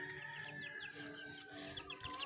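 Chickens clucking in a yard, a cluster of soft, repeated clucks and murmurs from several birds nearby, fairly faint and alone.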